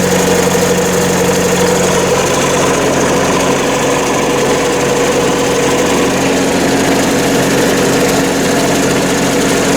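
A John Deere 47 snowblower engine runs steadily at idle, a constant mechanical drone with a buzzing rattle and no pauses, fairly loud and close.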